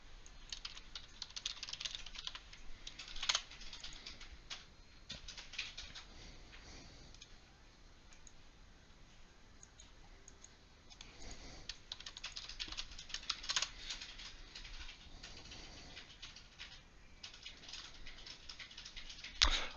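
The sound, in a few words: typing a question on a computer keyboard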